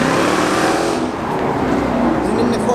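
A car accelerates hard away from a Cars & Coffee meet, its engine roaring loud and close with broadband exhaust noise that eases slightly midway, amid crowd chatter.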